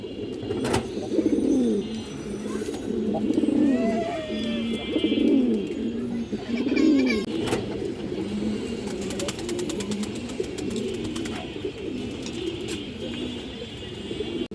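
Many pigeons coo together in a loft of birds kept for sale, with low, repeated burbling calls overlapping steadily and fairly close throughout, plus a few sharp clicks and faint chirps in the background.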